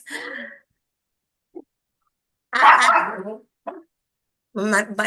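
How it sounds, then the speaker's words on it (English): Short bursts of dog barking, a few yips and woofs separated by pauses, fairly close and loud. "my dogs are barking"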